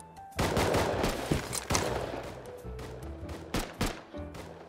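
Video game gunfire, several loud close bursts of rapid shots with short gaps between them, followed by scattered single cracks, with no speech over them.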